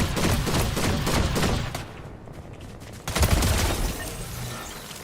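Video game gunfire, a loud close barrage of rapid shots and bursts that drops off briefly midway, then erupts again in a fresh volley.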